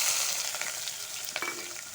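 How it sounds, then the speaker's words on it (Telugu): Onion and green chili pieces fry in hot oil at a home stove, a steady close sizzle with light crackles and a few stirring scrapes, no voices. "ఉల్లిపాయలు, పచ్చిమిర్చి ముక్కలు వేసుకుందాం."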